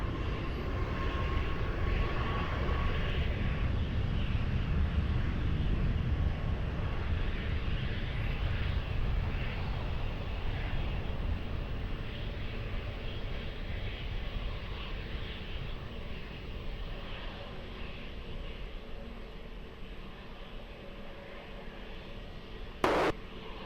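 Fixed-wing airliner taking off from runway 20 at Lisbon Airport, a steady broad engine roar that slowly fades as the aircraft moves away, heard from a distance with no one talking.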